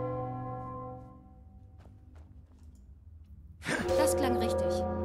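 A bell in the video game Enderal is struck once after a fading tone, ringing out loud and close, followed by a sustained, shimmering decay.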